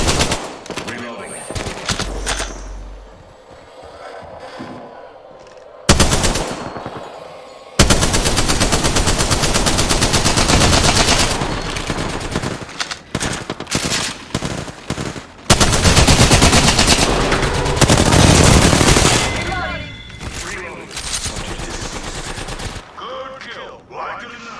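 Sustained bursts of video game machine gun fire, loud and close, rattle on for several seconds at a time, broken by brief gaps and scattered single shots.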